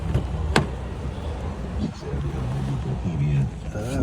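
A car drives through a New York snowstorm with a low, steady engine and road rumble, one sharp click near the start, and a voice speaking over it.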